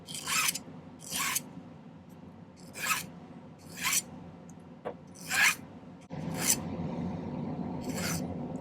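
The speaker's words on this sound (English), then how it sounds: "I'm just going to trim this and file it down." A hand file rasps down the bezel of a silver ring in a series of close, evenly spaced strokes, then settles into a steadier, continuous scraping.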